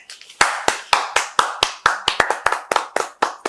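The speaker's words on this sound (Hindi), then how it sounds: "आप सब लोग तालियां बजाइए।" An audience claps in response to a call from a speaker: sharp, individual claps, fairly close and spaced roughly every quarter second, with no voices.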